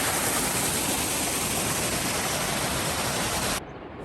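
A mountain stream near Glacier rushes in a steady, full broadband roar, close and loud, then drops abruptly to a quieter hiss near the end, with no voices.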